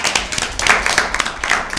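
Audience applause for team A at a Lent season Bible quiz, a brief steady patter of clapping hands with a few sharper claps standing out.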